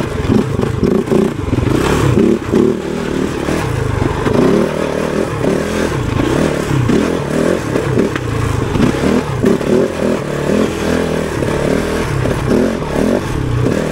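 A Kove 450 Rally motorcycle engine running while being ridden, loud and steady throughout, with a chugging, slightly uneven drone, clattery mechanical noise and wind rush, no talk.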